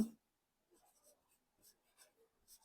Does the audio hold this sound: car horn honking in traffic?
no